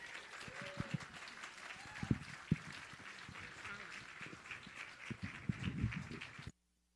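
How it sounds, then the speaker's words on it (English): Audience at a gala applauding, a faint, scattered clatter of hand claps with some low crowd murmur, ending abruptly. "Please give her a warming round of applause."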